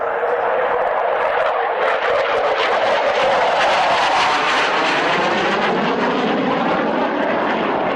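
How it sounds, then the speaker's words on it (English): An airplane making an inverted flight pass at a 1998 airshow in Woodford, its engine a loud continuous roar that sweeps and shifts pitch as it passes close overhead. "Another pass that will be the inverted flight."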